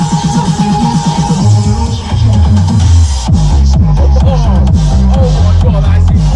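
Music with a steady beat and strong bass plays loud and full through newly installed speakers inside a VW T5 van, with no talking.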